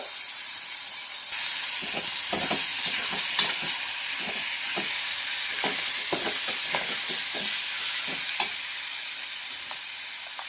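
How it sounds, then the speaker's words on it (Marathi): Finely chopped tomato and onion frying in a pan with a pinch of asafoetida, a continuous close sizzle broken by repeated scraping stirs, with no one talking. "बारीक चॉप केलेला टोमॅटो आणि कांदा हे सुद्धा आपल्याला छानपैकी असं फ्राय करून घ्यायचं आहे"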